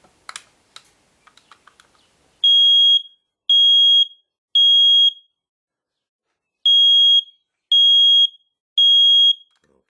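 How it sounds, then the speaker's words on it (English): A 10-year battery smoke alarm sounds its test: six loud, shrill beeps in two groups of three, following a few faint clicks and handling taps, with no talking. "Press and hold test button to test alarm."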